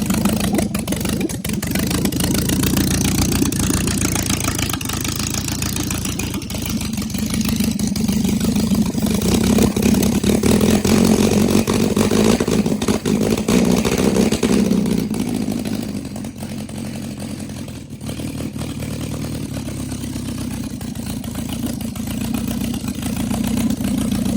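A 1967 Alfa Romeo Giulia Sprint GT engine runs for the first time after a rebuild, holding a steady, loud idle up close with a brief rise in level midway before settling back, no talk over it.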